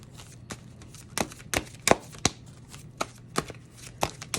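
Tarot cards are shuffled and snapped in a quick, irregular series of crisp slaps and riffles, close by, with no voices.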